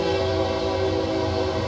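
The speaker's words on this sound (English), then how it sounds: "Train." A train passes nearby, a loud steady rumble with a sustained tonal hum, heard alone without talk.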